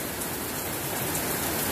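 Steady rain pours down outdoors, a dense, even hiss of many drops hitting surfaces, close and constant throughout with no voices.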